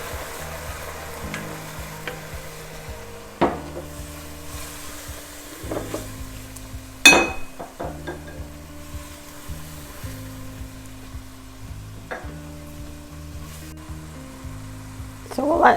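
Wine sizzles steadily in a hot pan while mussels cook, with occasional stirring clatters and a sharp metallic clink partway through, fairly close and continuous.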